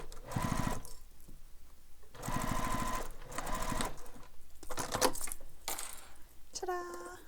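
A sewing machine stitches through a fabric wallet in several loud bursts of rapid, even needle hammering, separated by short pauses with soft handling noise.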